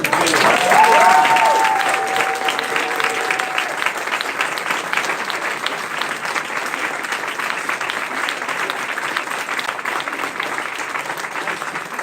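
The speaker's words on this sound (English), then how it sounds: "there should be a very, very warm applause for Freiburg, who did magnificently" Sustained audience applause at a moot court competition for the Freiburg team, a full, even crowd of clapping that starts with a brief whistle-like tone and holds steady throughout.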